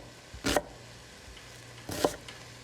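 Two sharp knife strokes cut an onion on a cutting board, spaced well apart and close, with quiet in between and no voices.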